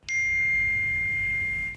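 A phone notification chime warns of roaming charges abroad, a single clear electronic tone that starts sharply, holds steady for nearly two seconds and then cuts off, alone and close.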